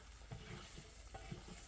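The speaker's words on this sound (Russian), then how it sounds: "в ближайшие 10 минут мы жарим шейки с шампиньонами" Pork necks frying in a pan with champignon mushrooms, a faint steady sizzle with a few soft stirring scrapes, heard alone and without voices.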